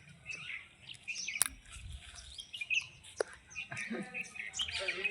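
Many sparrows chirp and twitter busily while being fed grain, close by, with scattered sharp tweets over a low background murmur.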